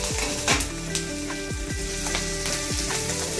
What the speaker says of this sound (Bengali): লঙ্কাটাই একটু সামান্য ভাজা ভাজা হয়ে গেছে